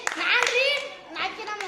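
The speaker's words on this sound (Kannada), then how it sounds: "ವೆರಿ ಗುಡ್, ಚಪ್ಪಾಳೆ ಹಾಕ್ರ ಅವಂಗ" Children clapping in a school setting, a few short bursts of claps mixed with children's voices, close and brief.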